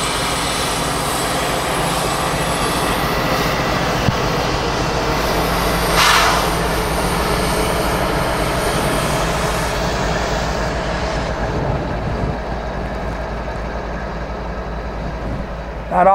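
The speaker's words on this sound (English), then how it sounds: "Not often do I see big freight trains go slow." Big CSX freight train moving slowly through a snowy interlocking, a long steady low rumble with engine drone that fades toward the end, alongside some faint voice.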